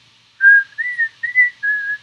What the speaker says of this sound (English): Then one day, I hear someone whistling Frere Jacques.